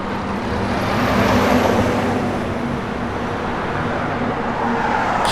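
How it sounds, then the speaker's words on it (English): A 1969 Chevrolet Camaro with an X-pipe Flowmaster dual exhaust gives off a steady, close engine rumble and broad road roar with no break in loudness, and no voices. "Got an X-pipe Flowmaster dual exhaust system that sounds great."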